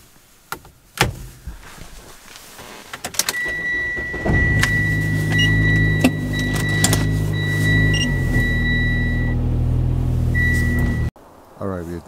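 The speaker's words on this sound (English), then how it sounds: "It's gonna be a cold start at 5 a.m." A car engine, the RCF, cold-starts at 5 a.m. in a garage: clicks and a door sound, then the engine catches at about four seconds and holds a loud, steady low idle with a faint whine before cutting off near eleven seconds.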